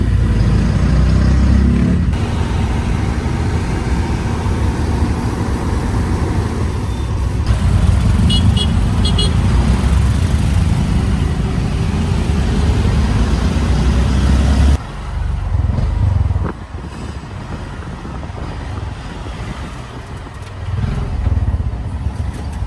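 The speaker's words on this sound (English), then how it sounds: "So it's a tricycle and it looks like it's essentially a motorbike" A motorbike-based tuk-tuk tricycle engine drones loud and close through Jakarta traffic, a continuous rumbling ride that shifts and eases partway through amid surrounding road noise.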